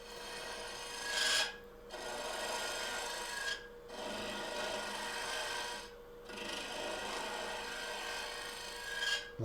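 Hunter carbide cutter hollowing a maple burl form on a lathe, a steady close scraping rasp with a few brief pauses as the cutter lifts off, no talk.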